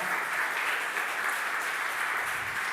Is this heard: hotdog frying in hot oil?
no